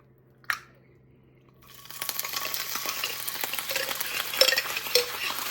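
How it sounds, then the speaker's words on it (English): Meat and vegetables frying in a skillet for a fried rice and egg roll dinner: a single utensil clink, then a loud, steady broadband sizzle that builds in and holds close up with faint scraping. "in a skillet, go ahead and brown up your meat of choice."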